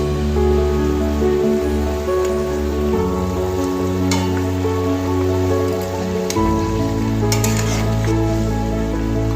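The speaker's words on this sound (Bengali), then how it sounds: "ঝোলটা আমার অলরেডি ফোটা শুরু করে দিয়েছে এবার আমি মাছটা দিয়ে দিচ্ছি ভেজে রাখা মাছগুলি একে একে" Pieces of fried fish go one by one into a boiling fish curry gravy, which gives a steady bubbling sizzle that continues unbroken at close range.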